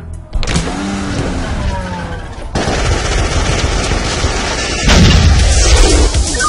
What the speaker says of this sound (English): we have an ongoing shootout at 24th and North Pleasant Street